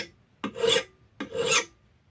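Two separate strokes of a file rasping across the steel edge of an old Norlund Hudson Bay axe head, each stroke a loud, bright scrape with a short gap between them.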